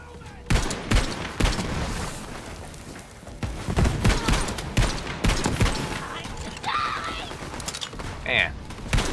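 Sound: gunfire in the video game Borderlands 3

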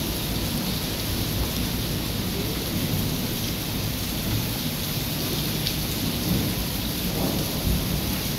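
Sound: heavy rain with thunder

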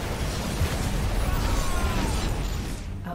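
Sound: tactical bomb dropped in video game StarCraft 2

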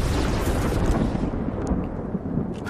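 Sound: Zeus lightning bolt strike in a video game

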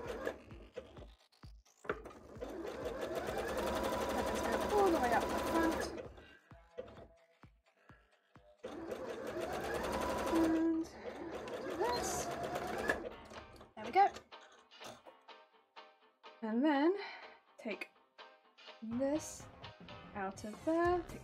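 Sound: sewing machine zigzag stitching bra fabric

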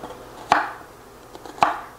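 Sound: knife chopping onion

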